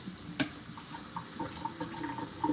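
Tap water running faintly in a sink as food is rinsed under the faucet, a soft steady trickle with a few small splashes and clinks.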